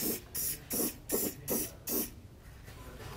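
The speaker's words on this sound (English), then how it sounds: "we just want to hit this with some clear coat to help protect it" Clear coat sprayed from an aerosol can onto the cut hitch opening of a 2021 Honda Accord during a Curt trailer hitch install: six short, evenly spaced hissing bursts close by, then quiet.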